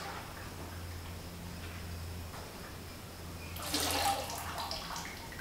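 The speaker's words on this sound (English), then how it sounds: "now all that's left to do is to pour it out from the lip back into the bucket" Pottery glaze poured from a pot's lip back into a bucket, a steady low wet trickle that swells into a brief louder splashing pour near the end, close and alone.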